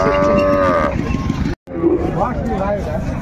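At a busy Bangladeshi cattle market, a Sahiwal cow with her calf gives drawn-out lowing calls close by. Crowd babble runs underneath, and a brief dropout falls midway.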